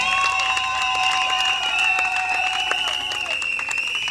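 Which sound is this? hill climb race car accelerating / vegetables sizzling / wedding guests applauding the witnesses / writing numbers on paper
wedding guests applauding the witnesses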